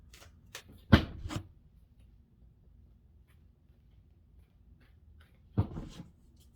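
Tarot cards are shuffled quietly by hand: a short cluster of soft riffling snaps, then a long near-silent pause, then another brief riffle, close and faint.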